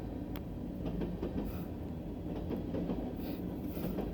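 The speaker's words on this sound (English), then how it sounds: "Wow, that's a long train." A long freight train made up entirely of boxcars rolls past a crossing at Struthers, a loud continuous rumble with rhythmic wheel clacks and some high metallic squeal, close by and with no talking.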